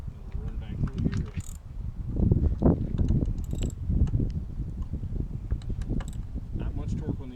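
A ratchet wrench clicks in short rapid bursts while turning a spark plug on a 2019 Toyota RAV4 Hybrid, close up, with a voice talking over it.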